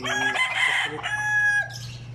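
A seven-month-old chocolate-colored gamecock stag, freshly dubbed, crows once in a long harmonic call lasting about two seconds, close and loud over a steady low background hum.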